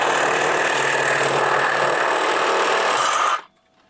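A power cutting tool slices through an old exhaust bolt on a Ford SVT Focus during a catback exhaust install, a loud steady broadband grinding whine that holds for about three seconds and then stops abruptly, leaving near silence.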